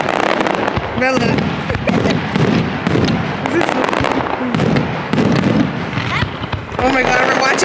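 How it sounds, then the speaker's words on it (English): Fireworks explode during a severe thunderstorm in Ottawa, a loud, continuous string of crackling bursts and sharp pops close by. Voices are heard beneath the barrage. "we're watching the fireworks right now"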